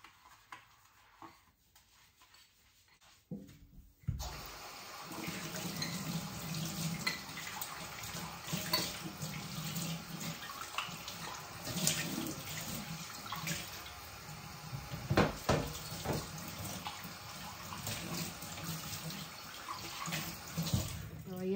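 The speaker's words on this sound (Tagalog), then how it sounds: "Kailangan hugasan muna bago ka kumain dyan. Hugasan muna natin." Water runs from a tap for washing before feeding, a steady close splashing flow that starts suddenly after a few quiet seconds and continues with small knocks and clatters.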